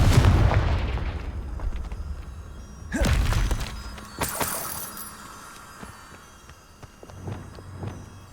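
Confringo blasting spells in the Hogwarts Legacy video game, two loud explosive bursts with crackling tails followed by lighter impacts and fading rumbles.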